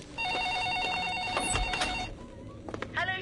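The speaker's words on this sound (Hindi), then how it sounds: "फोन बज रहा है।" Landline telephone ringing in a home kitchen, a steady electronic trilling ring repeating for about two seconds, fairly loud and close, followed by shuffling and a few clattering handling sounds.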